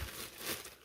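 Packaging around an LED garage ceiling light being unwrapped, a short close rustle and crinkle of wrapping material, brief and fairly soft.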